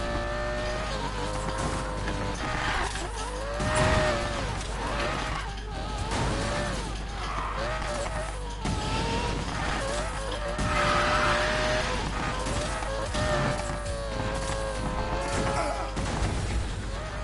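A car drifting in Need for Speed Payback, with loud tire squeals and engine revs over a sustained roar, broken by a couple of abrupt crash-like thumps midway.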